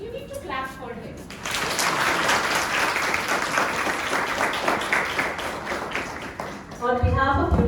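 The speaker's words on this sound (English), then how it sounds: "You need to clap for him." School audience applause at Universal High School, Dahisar, for a life skills session speaker: a loud, dense burst of many hands clapping that holds for several seconds, with brief talk just before and after.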